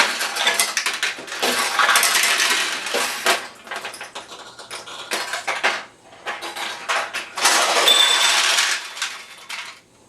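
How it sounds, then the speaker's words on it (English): Metal balls clattering and rattling inside a Nishijin B pachinko machine as they are fired from a jammed shooter lane, dense mechanical bursts in several waves, close and loud with no talking. "Now if I try to shoot properly to get them out, one popped out here"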